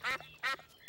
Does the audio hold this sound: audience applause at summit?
no